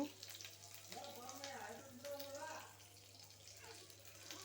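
Ginger goes into a hot pan that already holds curry leaves, for a capsicum curd sambar. A low, steady sizzle runs throughout, with a voice talking over it.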